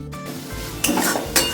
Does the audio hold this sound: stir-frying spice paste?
yes